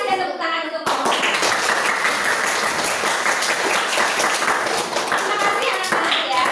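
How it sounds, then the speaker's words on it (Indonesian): A classroom of primary school children claps for group 4, with dense, steady applause that swells right after a short spoken lead-in and carries on loud and close, with young voices faintly mixed in. "tepuk tangan untuk kelompok 4"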